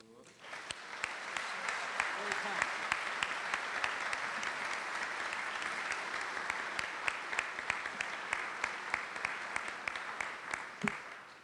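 Audience applause for General Martin Dempsey at the 2010 Army Cadet Command Marshall Award event, sustained clapping from a large crowd lasting about eleven seconds with steady density and scattered sharper claps, fading at the end.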